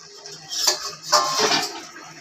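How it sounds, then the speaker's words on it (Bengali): A metal plate used as a lid comes off a pot of simmering Bengali fish curry with potato and aubergine, giving a short clattering scrape and a rush of bubbling steam, close and fairly loud. "এবার থালার ঢাকাটা খুলছি।"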